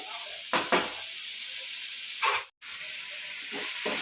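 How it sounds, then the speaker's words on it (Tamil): Tomatoes and onions sizzle and hiss steadily in a hot pan for egg gravy, with a few louder bursts and stirring scrapes, close and alone with no talk. "நல்லா வணக்கணும் தக்காளி நல்லா வணக்கட்டும்"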